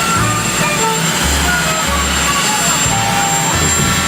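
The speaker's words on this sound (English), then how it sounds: "You have a helicopter ranging back." A helicopter drones loud and steady, its low rotor thrum and engine roar filling the background continuously, with a voice talking over it.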